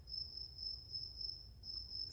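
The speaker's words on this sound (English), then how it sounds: "Sounds like a cricket is in the garage as we speak." A cricket chirps inside a garage with a fast, steady, high-pitched trill that pulses continuously at a faint level over quiet background hum.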